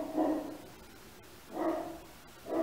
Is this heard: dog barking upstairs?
yes